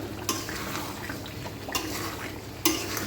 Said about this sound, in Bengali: আর চিনিটা দেওয়ার পরে অনবরত নাড়তে থাকবো।